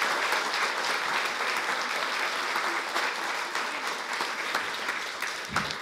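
An audience at an evening lecture-and-debate event gives a long, warm round of applause for the speakers and guests, steady and full throughout, with a faint thump near the end.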